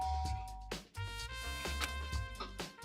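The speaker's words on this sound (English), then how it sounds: "I press the doorbell. Ding dong." A doorbell in the Danganronpa video game rings a clear electronic ding-dong, two bright tones sounding over steady game background music.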